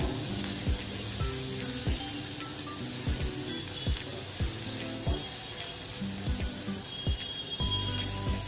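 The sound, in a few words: onion sizzling while sautéing in oil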